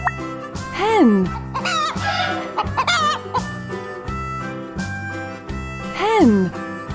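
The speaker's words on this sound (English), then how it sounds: "Hen." A hen clucks in several short, rising squawks spread across the stretch, close and clear over a soft, rhythmic musical backing.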